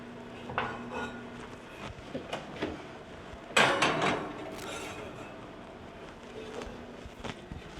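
A cast iron pan being seasoned is handled with metallic clanks and scrapes, then a sharp loud clatter as it goes back into the oven, followed by quieter knocks and rattles.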